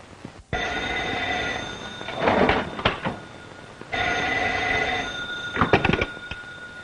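Vintage telephone bell ringing in two long bursts, each followed by a pause with faint clicks and rustles, close and clear.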